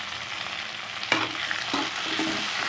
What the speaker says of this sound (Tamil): நம்ம தக்காளி வதக்கி வச்சுக்கலாம்